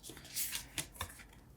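Tarot cards being shuffled by hand in a few soft, papery riffling bursts, close and fairly quiet, with no talking.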